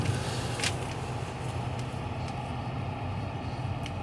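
A 2018 Chevy Silverado 2500 pickup truck cruising steadily on the road, with a constant low engine and road rumble filling the cab and a few faint clicks over it.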